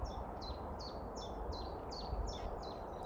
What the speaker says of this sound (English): But the noises that the birds are making right now